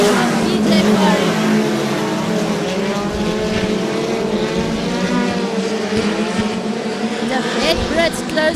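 Oval track race cars roar around the circuit at close quarters, one chasing right behind another's rear bumper while trying to overtake; loud, continuous engine drone with shifting pitch as cars pass, a commentator talking over it throughout.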